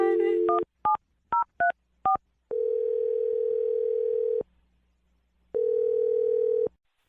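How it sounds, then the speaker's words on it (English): Telephone keypad tones on a radio show: a quick run of about seven short, clear DTMF beeps dialing a number, followed by two long, steady ringback tones separated by a gap of silence. "We're going to dial the phone number right now for you."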